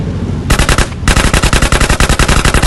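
Loud automatic gunfire in the video game GTA: rapid, evenly spaced shots in two bursts split by a short pause, close and dominant.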